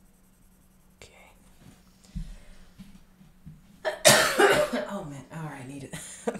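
A sudden loud cough bursts out close by from a person drawing fanart, following a stretch of quiet murmured speech and soft desk sounds, with a few spoken words around it.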